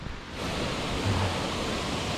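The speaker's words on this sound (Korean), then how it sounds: "이 바로 밑에 폭포가 있네" Waterfall just below a hillside trail, a loud, continuous broadband rush of falling water close by, with no one talking.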